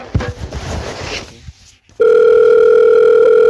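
A telephone calling a plumber first gives some brief handling clatter, then after a short pause a loud, steady electronic tone begins and holds unbroken, like a dial or ringback tone.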